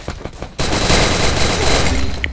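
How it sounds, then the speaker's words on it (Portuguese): Gunfire from a 4v4 ranked shooter video game opens with a few sharp shots, then turns into a dense, loud, continuous burst of rapid automatic fire that fills the rest of the moment. "eu dei um monte de tiro no cara e o cara não morreu"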